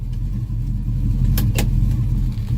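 A custom 1981 Chevrolet C10 streetrod pickup rumbles as it drives off, a deep steady engine note close by with two short sharp clicks partway through.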